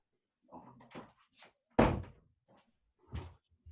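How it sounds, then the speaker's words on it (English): A door is pushed shut indoors with a single solid thump, preceded by a few softer shuffles and handling knocks, then another lighter knock afterward; no talking over it. "just stood up and closed the door"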